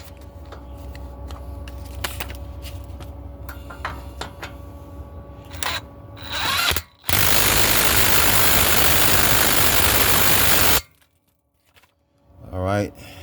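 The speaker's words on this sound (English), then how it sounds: "I'm going to tighten up this castle nut down here first." Tightening the castle nut on the outer tie rod of a 2004 Ford Explorer Sport Trac XLT 4.0L, with clicking ratchet work followed by a loud, steady, hissing power-tool run of about four seconds.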